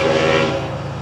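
Florida East Coast passenger train FEC109 heading southbound, passing close and loud with a steady horn tone over its rumbling rail noise.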